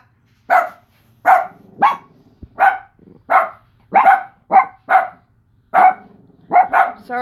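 A dog delivers a steady series of about a dozen loud, close barks at an even rhythm with short gaps, nothing else heard.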